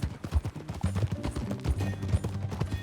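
Horse hooves clip-clop in Red Dead Redemption 2, a steady near rhythm of soft thuds running under game music with scattered low percussive hits throughout.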